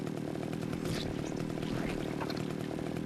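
Chainsaw weapon in the Splatterhouse video game, a steady buzzing rasp that runs continuously at moderate level throughout, with game noise layered around it.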